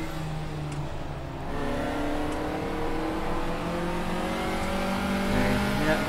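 Race car at a circuit event, its engine revving high and steady close to the rev limiter, a continuous loud droning whine that rises slightly in pitch, with no other sounds over it.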